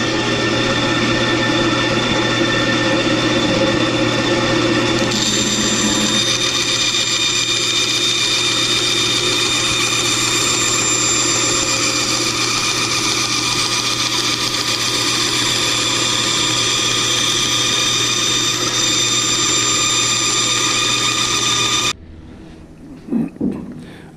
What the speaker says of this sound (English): now I'm over on my bandsaw and I'm going to just begin cutting that outline out